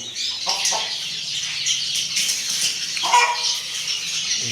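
A hen clucks repeatedly in short bursts nearby, over a busy background of other birds chirping outdoors.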